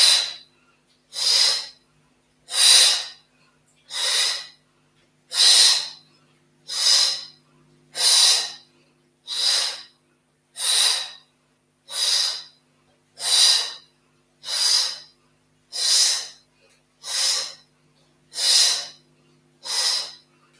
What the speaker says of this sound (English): You're going to start with those dynamic twists using an active breath side to side.